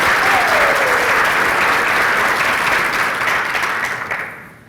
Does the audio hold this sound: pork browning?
no